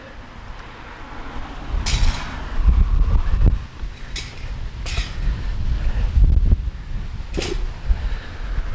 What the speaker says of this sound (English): Now that the wind is whipping furiously, I guess I can end this video clip.